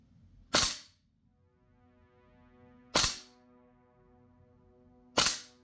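Three sharp airsoft gas blowback rifle shots fire BBs through a chronograph, evenly spaced about two seconds apart, each a loud crack with a quick tail, over a faint steady hum.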